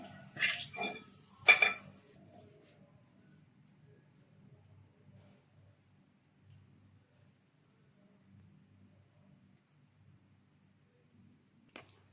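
A metal spoon clinks and scrapes against a pan while scooping raisins fried in ghee, a few sharp clatters near the start and then near silence with faint handling noise.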